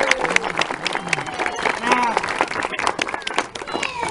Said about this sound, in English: Take this last round of applause